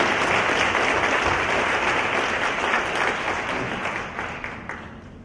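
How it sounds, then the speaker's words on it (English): Large audience applause at a high school Hall of Fame ceremony, a thick, even wash of clapping held steady before gradually fading away. "So a big round of applause for"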